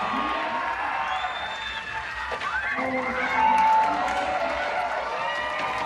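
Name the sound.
crowd cheering at X Games skateboard competition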